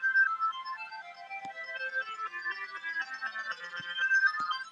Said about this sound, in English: that's pretty much how I make those kind of reverse sounding arpeggio sounds.